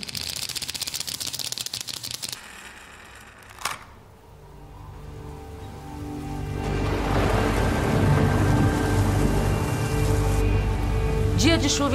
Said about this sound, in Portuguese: Dia de chuva em São Paulo.